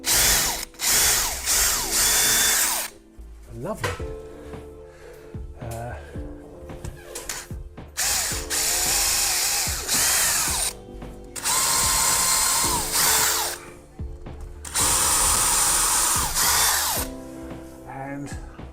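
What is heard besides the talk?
power drill drilling holes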